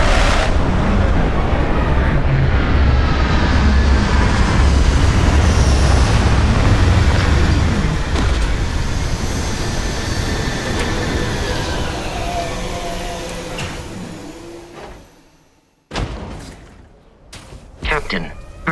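A spaceship's retro rockets fire during landing in Starfield, a loud, deep, continuous roar that slowly fades over about fifteen seconds. It ends in near silence, followed by a few sharp mechanical clunks.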